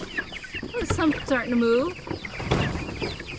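Meat chickens on a farm clucking and calling close by, several warbling cries blending together, with a person speaking briefly among them.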